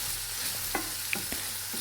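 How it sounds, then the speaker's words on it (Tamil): Onion and garlic sauté in oil for drumstick-leaf poriyal, a steady close sizzle broken by a few soft clicks and scrapes of a stirring spoon, with no voices. "வெங்காயமும் பூண்டும் நல்லா ஆயிலில் வதங்கட்டும்."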